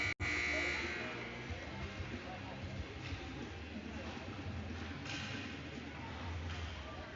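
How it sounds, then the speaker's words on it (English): A long, loud electronic buzzer drones steadily at a distance in a big echoing ice hockey rink, with a crowd murmuring and chattering underneath. "And there's our buzzer."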